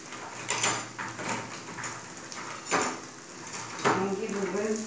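Frying pan of sausages on the stove being covered with a lid, heard as a few clattering metal knocks and scrapes over a steady sizzle, with a voice speaking nearby.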